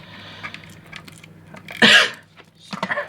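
One loud, harsh cough stands out from a quiet background, followed by a few shorter, softer bursts.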